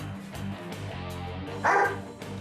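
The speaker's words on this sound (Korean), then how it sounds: "지금 짖음 그렇게 연속적이지 않고 공격적이지 않아요" A Weimaraner gives a few short, separate barks during a walking and training session, with one louder bark near the end of the stretch.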